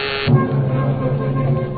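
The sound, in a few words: call buzzer sound effect in old-time radio drama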